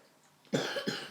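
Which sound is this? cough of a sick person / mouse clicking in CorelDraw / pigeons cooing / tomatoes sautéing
cough of a sick person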